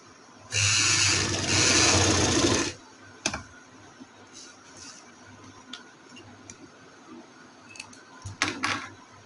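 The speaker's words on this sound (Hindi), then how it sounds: "इस तरह से हम इसे प्रेस करते जाएंगे और सिलाई लगाते जाएंगे।" Sewing machine stitching around a garment neckline, one loud sustained whirring run of about two seconds, then quieter clicks and short mechanical taps as the fabric is adjusted.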